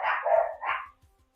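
A dog barks twice in quick succession, close and fairly loud, in a quiet home, followed by faint low thumps.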